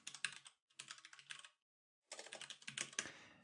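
Rapid keystrokes on a computer keyboard entering a username and password, crisp close clicks in two bursts separated by a short silence.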